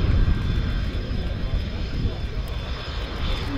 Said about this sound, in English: Typical of a delta wing fighter aircraft, very high landing speed